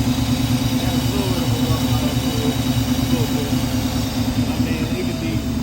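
A 1984 Mercedes 500SEC with a loose belt idles with an exhaust leak, giving a steady, loud, close low rumble with a continuous mid-pitched drone and faint ticking throughout, no talking.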